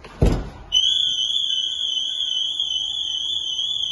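Cobra alarm system on a van going off, a sharp thud followed by a loud, continuous high-pitched siren tone that holds steady to the end.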